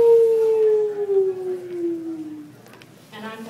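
A voice imitates a wolf howl, a long sustained tone sliding slowly downward, fairly close and clear, fading out near the end.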